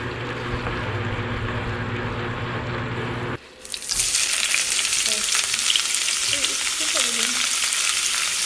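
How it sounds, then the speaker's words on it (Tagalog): Sliced eggplant hits a hot pan mid-clip and erupts into a loud, steady sizzle with scraping stirring, after a quieter earlier frying hiss; no talking. "Kapag nag-golden brown na, ilagay na ang hiniwang talong."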